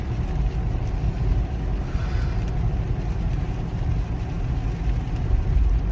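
Steady low engine and road rumble heard from inside a moving car, a continuous loud drone filling the cabin with no talking over it.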